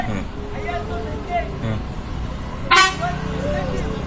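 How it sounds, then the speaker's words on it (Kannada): On a busy main road, a single short car horn toot cuts through near the middle, under people talking over continuous traffic rumble. "ಹಾರ್ನ್ ಮಾಡ್ಕೊಂಡು ಎಲ್ಲರೂ ಬರ್ತಾರೆ."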